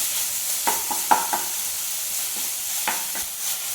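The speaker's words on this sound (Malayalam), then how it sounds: "ലോ ഫ്ലെയിമിൽ വെച്ചിട്ട് ഇങ്ങനെ ഇളക്കി കൊടുത്ത് ചിക്കൻ നന്നായിട്ട് വേവിച്ചെടുക്കാം" Chicken cooks in a pan over a low flame, a soft steady sizzle broken by a few scraping stirs, close by and alone without speech.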